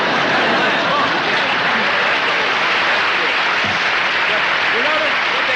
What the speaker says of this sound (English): People applauding when they like something.